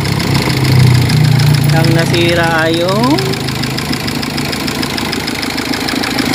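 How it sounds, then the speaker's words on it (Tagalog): A Hyundai Accent CRDi diesel engine idling with a rapid, even clatter like a typewriter, a steady loud rattle running throughout while someone speaks over it and a brief rising whine cuts in partway. "Kasi tignan mo yung tunog ng makina mo, parang may nagtatypewriter."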